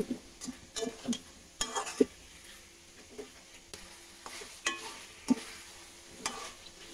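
Potatoes frying in a pan with ginger, garlic and cumin paste, stirred so that spoon scrapes and clinks come in irregular bursts over a low, quiet sizzle.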